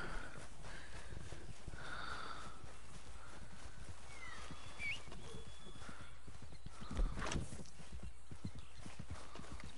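Horse in a video game clip-clopping with a steady rhythm of hooves, with a whinny and snorts rising above the footfalls; moderately close and clear, no talk over it.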